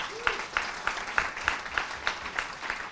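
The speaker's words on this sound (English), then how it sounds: "Can you give everyone a round of applause" An audience gives a round of applause at an Extinction Rebellion talk, clapping in a loose rhythmic pattern of distinct claps, moderately near and fairly sparse.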